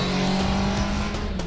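A motorbike engine runs close by, a loud, steady droning hum with slight shifts in pitch through the short stretch, with no voices over it.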